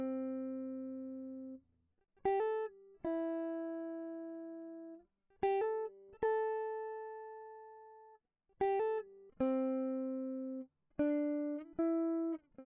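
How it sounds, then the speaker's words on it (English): A simple, sparse melody on a subtle, dry guitar with no effects: single plucked notes ring out and decay one after another, clean and fairly quiet, with short gaps between phrases. "I added a really subtle guitar part playing a simple melody."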